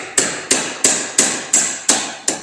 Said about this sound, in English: Grab you a hammer. Just hammer it out.